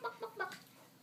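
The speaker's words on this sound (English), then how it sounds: "The hen says, cluck, cluck, says the hen." A hen clucking, three or four quick soft clucks in a short burst, faint and alone.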